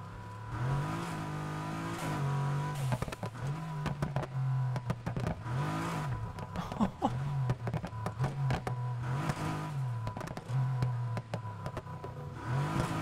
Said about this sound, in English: Oh, hear the exhaust.